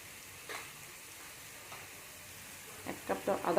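Soy sauce poured into a hot pan sizzles softly at first, then builds into louder crackling bursts near the end.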